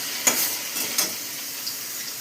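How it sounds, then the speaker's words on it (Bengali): Small potato pieces frying in oil in a pan while cooking a banana blossom dish in an Indian kitchen, a soft steady sizzle with a few brief scraping clicks near the start. "আলুটাকে ভাজছি আমি এখন, ছোটো ছোটো দম করেছি।"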